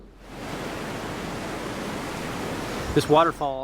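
A small waterfall about two metres high on Icicle Creek pours as a steady, close rushing roar that fills the scene, with a person starting to speak over it near the end.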